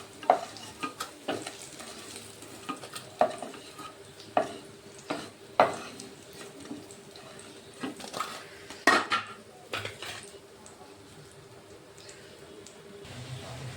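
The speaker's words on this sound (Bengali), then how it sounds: "বাকিগুলো আমি এইভাবে ভেজে নেবো" Jackfruit seed koftas fry in hot oil in a pan, a steady sizzle punctuated by irregular clicks and knocks as a utensil turns them, fairly close and with no talking.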